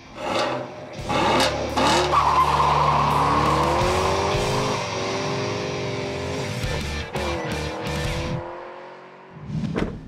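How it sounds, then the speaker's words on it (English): A 2016 Chevrolet Camaro SS with an LT1 V8 does a burnout: a loud, sustained engine roar and high tire squeal rise and hold for several seconds, then taper off. "Then you can do a bigger burnout than this one."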